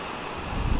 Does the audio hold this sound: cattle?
no